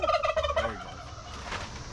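A turkey gobbles outdoors in a garden yard with fowl, one loud rapid warbling burst close by that trails off into quieter background noise.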